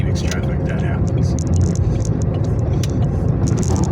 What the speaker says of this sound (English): Downtown Phoenix traffic.